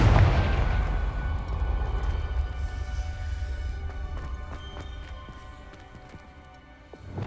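A fiery Confringo spell blast in the video game Hogwarts Legacy opens with a heavy, booming impact, then fades into a long rumbling decay with faint crackles and clicks.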